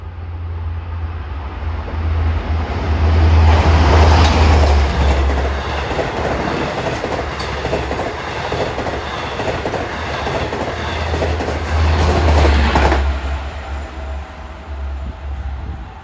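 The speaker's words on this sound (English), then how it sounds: "Here comes 2740, New York Spionk at 5:49." Long Island Rail Road train 2740 rolls past on jointed rail, loud and close, with steady clickety-clack from the wheels over the joints and a low rumble that swells at the start and again near the end.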